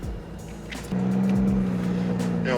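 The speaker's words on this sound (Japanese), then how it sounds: "吸気音だったら間違いなく過去ナンバーワンだ" A BMW Z3 coupe's engine gives a low, steady intake drone that swells slightly partway through as the revs rise, close and continuous with no talk.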